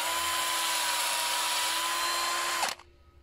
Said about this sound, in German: Jetzt nehmen wir einen handelsüblichen Akkuschrauber. Das ist eine Verlängerung und eine Bürste zum Injektorschacht reinigen.